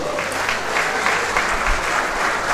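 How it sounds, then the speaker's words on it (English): Engineering students applauding their dean at a university inaugural lecture, a dense steady round of clapping from a hall audience, continuous throughout. "Engineering students, give your dean a round of applause."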